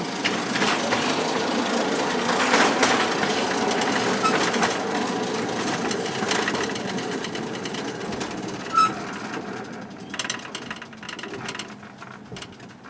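A small model railcar rattles and clicks along a track, loud at first and gradually fading, with a sharp clack near the end.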